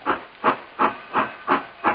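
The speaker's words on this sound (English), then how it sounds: "The magic sound of the steam whistle marks the start of our ride back into history." A wood-burning steam train at an Old West theme park vents steam in six steady, evenly spaced hissing puffs, close and fairly loud, with no voices.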